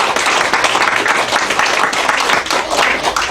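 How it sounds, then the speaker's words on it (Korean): A Korean church congregation at an Easter Sunday service gives loud, continuous clapping in praise, dense and sustained with slight swells in intensity. "우리 하나님께 영광 박수 올려드리겠습니다"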